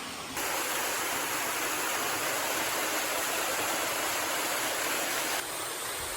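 A waterfall on Eliza Brook on the Appalachian Trail roars steadily in the morning, a loud, continuous close rush of falling water with no pauses and no voices.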